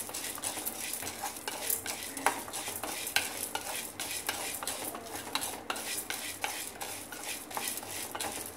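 Chana dal is dry-roasted in a pan and stirred continuously, giving a soft, steady rattling and scraping with faint sizzle and occasional utensil clicks, close but quiet, with no voices.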